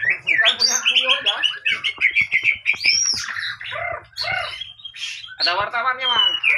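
A magpie robin (kacer) sings close and loud in a rich, varied run of whistles, chirps and harsh squawky notes that goes on without a break.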